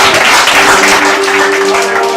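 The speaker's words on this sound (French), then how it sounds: "Alors, applaudissez Seigneur pour ça. Nous applaudissons Seigneur." A church congregation applauds during a presentation ceremony, a dense, loud, continuous wash of clapping with a sustained tone underneath throughout.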